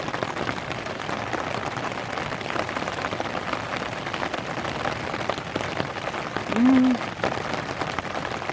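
Steady rain pattering on surfaces around a forest campsite, a soft continuous hiss at moderate level with a brief low voice murmuring once near the end.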